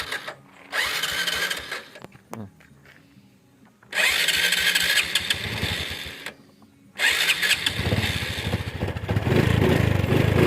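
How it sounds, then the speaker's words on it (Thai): A motorcycle engine cranks on its electric starter and catches, cutting out between bursts before settling into a steady, soft idle that runs close and loud through the end. "นี่ครับเปิด ไฟสตาร์ทมือนะครับเดี๋ยวให้ดูเครื่อง"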